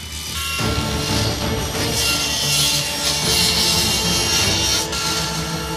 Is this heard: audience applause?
no